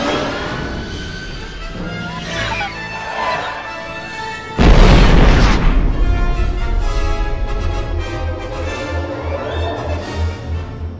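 Fired pod canisters explode in a Star Wars fan edit: after a tense stretch of score, a sudden heavy boom breaks in midway and fades into a long rumbling roar under continuing music.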